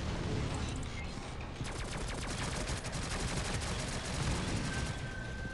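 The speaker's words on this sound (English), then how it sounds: "Is my turret down? No, it sounds like it's still shooting." An automated turret in the shooter game Shadowgun Legends fires a rapid, sustained stream of shots that sits under a dense game soundscape.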